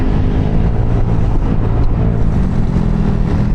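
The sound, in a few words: horn test on a Yamaha Aerox 155 scooter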